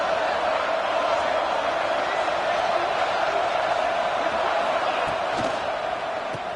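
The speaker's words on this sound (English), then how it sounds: "the crowd coming to life here, trying to help this defense down in the red zone" Football stadium crowd roaring to back the defense in the red zone, a steady, loud wash of cheering and yelling that keeps going throughout, heard from within the stands with no clear single voice.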